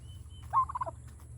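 A farm turkey gobbles once in a short, rapid warble, moderately close, over a low steady hum with no talk.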